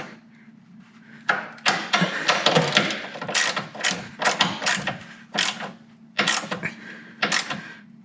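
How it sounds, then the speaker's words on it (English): A half-inch drive torque wrench ratchets and clicks while tightening engine mount bolts on a BMW E39 M5. Close, loud bursts of mechanical clicking repeat in uneven runs. "Click, click, perfect, 17 foot-pounds."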